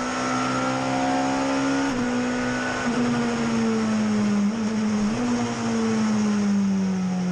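A 1990s British Touring Car Championship race car engine holds a loud, steady high-revving drone with small shifts in pitch, as if heard onboard, filling the whole stretch with no talk.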